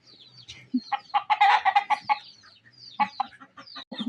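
Chickens cluck close by in a backyard chicken yard. Busy, overlapping clucks and short calls come in two clusters with a brief lull between them.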